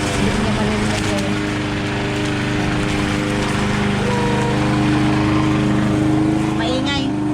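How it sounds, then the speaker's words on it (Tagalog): A grass cutter runs nearby in a relaxing spot in Finland, giving a steady continuous motor drone with broadband whirring that holds at a constant level for the whole stretch. "ayon si Dodong nag-grass cutter na naman."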